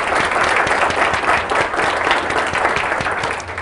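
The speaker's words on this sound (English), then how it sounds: "a round of applause for all our faculty" Dense, lively applause from an orientation audience in a hall, clapping steadily for newly introduced faculty fellows, loud and sustained from start to finish.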